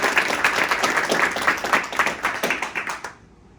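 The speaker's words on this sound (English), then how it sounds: "Please join me in a round of applause for the distinguished honor graduates." Audience applause at a military graduation ceremony for ammunition technician Marines, a dense, steady clapping from a large crowd lasting about three seconds before cutting off abruptly.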